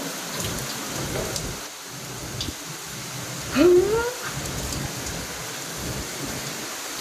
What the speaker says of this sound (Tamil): சரியான மழை, காத்து வாய்ப்பே இல்லை.